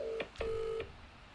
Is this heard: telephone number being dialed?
yes